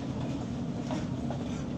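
A Hammersmith & City Line Underground train runs steadily between King's Cross St Pancras and Farringdon, a continuous low rumble with faint rail clatter, close and even throughout, with no talk.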